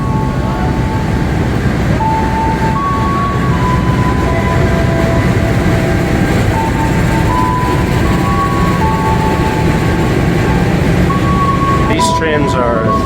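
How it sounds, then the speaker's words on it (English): Train idling at a railway station in Indonesia, a steady low rumble with faint tonal hums throughout, a brief higher squeal or horn-like burst near the end, with people talking nearby. "These trains are just as long, if not even longer, than the ones in the UK."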